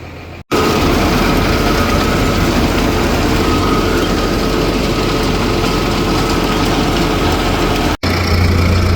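A heavy tractor engine idles steadily with a deep, constant rumble throughout, with two brief dropouts near the start and end.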